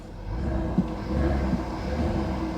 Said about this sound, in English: You're going to hear the increased rumble right from the low RPM all the way through the entire rev range.